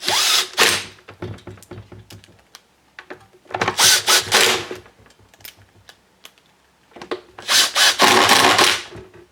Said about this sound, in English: So I'm just going to start them up with the impact